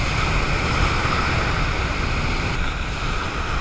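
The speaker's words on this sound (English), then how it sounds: "this wind is coming straight in. It's coming straight out of the east." Strong east wind blowing straight onshore at a New Jersey surf-casting beach, a steady loud roaring rush mixed with breaking surf and microphone buffeting throughout, with no talking.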